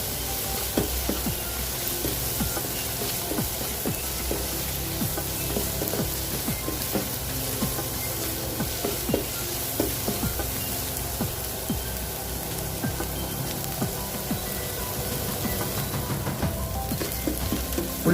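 Onions frying in a pan for a spicy Kerala-style crab roast, a steady dense crackling sizzle, close and even throughout with faint stirring taps.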